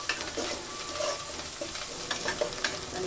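Ginger, garlic and cumin paste frying in a pan, a continuous close sizzle broken by scraping stirs and soft spatters, with no voices.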